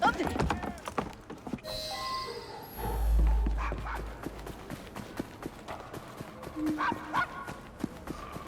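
A dog barks in Assassin's Creed Syndicate amid a busy street scene, with clopping horse hooves and scattered game noises around it and a voice speaking nearby.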